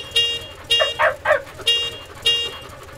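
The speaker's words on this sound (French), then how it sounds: "il ne reste plus qu'à voir le klaxon" A car horn being tested, sounding in four or five short, separate bursts with brief gaps between them, close and fairly loud with nothing else over it.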